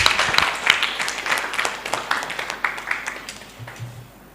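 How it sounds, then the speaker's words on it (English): A crowd at a stakeholders conference claps in a dense burst that gradually thins and fades over a few seconds. "Please, another round of applause for her."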